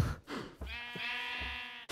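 A sheep in Minecraft bleats in a short, close sequence of wavering, nasal calls, clear and alone with no talk over it.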